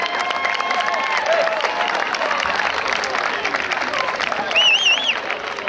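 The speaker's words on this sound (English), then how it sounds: "Fans, a nice round of applause and congratulations on a fine season to our runner-up" Fans at a boys varsity lacrosse section final applaud the runner-up West Genesee Wildcats, a crowd clapping and cheering in a large venue while an announcer speaks over the noise and whistle-like tones appear.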